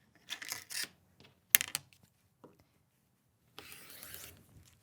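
Scissors snip through quilt fabric from corner to corner on a panel quilt, with short dry cutting bursts separated by pauses and a longer rasping cut at the end, close and fairly quiet.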